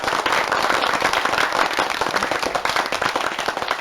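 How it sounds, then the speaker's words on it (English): A canned applause effect plays from an ATEN UC8000 podcast mixer, a continuous crackle of many hands clapping at even loudness throughout, with no voices over it. "We can add the applause, for instance, or the clap effect if you want it."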